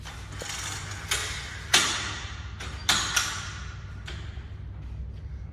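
Support arms of a hybrid camper trailer's Xpedition awning being pulled up and locked in place, giving a few sharp metallic clicks and thuds over a steady low background hum.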